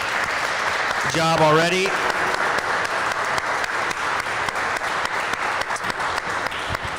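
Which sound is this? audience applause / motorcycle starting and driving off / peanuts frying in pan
audience applause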